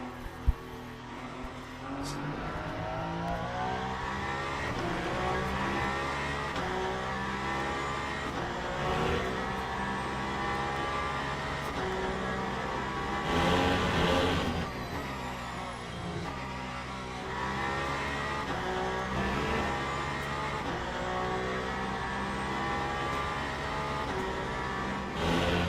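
Race car on cold tyres in the sim racing game Le Mans Ultimate, a continuous engine drone rising and falling through gear changes, steady and close throughout.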